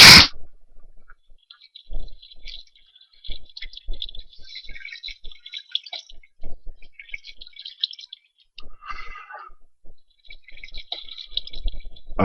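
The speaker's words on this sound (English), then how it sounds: "put some water in there to make sure I'm going the right distance" Water blocks being placed and flowing in Minecraft, heard as soft, scattered trickling and bubbling bursts with small clicks, fairly quiet, with no talking.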